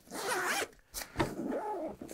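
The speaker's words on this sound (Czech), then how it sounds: "Obě jsou uzavírané dvoucestnými zipy." Two-way zipper on a Pentagon Kyler 20 military backpack being pulled in two quick, close rasping runs with a brief pause between, no talking.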